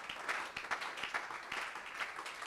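A church congregation applauds and cheers, steady clapping heard fairly faint and distant, continuing evenly throughout with no clear speech.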